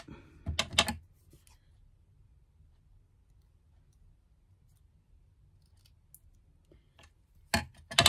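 Scissors snip through decorative paper in two short bursts of crisp cutting clicks, one at the start and one near the end, close up with near silence between.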